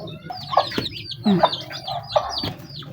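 Several chickens cluck in short bursts, close by, with a few squawking calls over a busy background of chirping birds.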